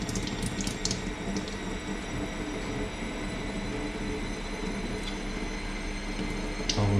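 Water and trapped air sputter and hiss from a faucet after a tank valve is opened, a continuous rushing flow with irregular spitting bursts throughout.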